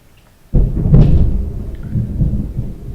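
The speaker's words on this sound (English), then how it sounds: "Ooh, I wonder if you heard that lightning." A single loud thunderclap during a storm breaks suddenly out of near silence, then rolls and rumbles low for a couple of seconds.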